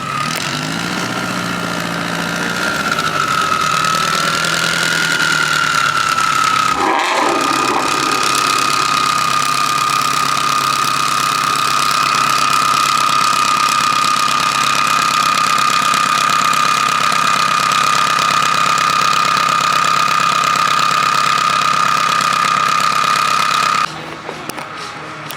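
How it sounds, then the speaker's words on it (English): A Subaru STI engine with its exhaust routed out through the hood runs loud and steady at a car show, a harsh buzzing drone with a sharp blip partway through, holding close and unbroken to the end. "It has the exhaust coming out of the hood and it sounds wild."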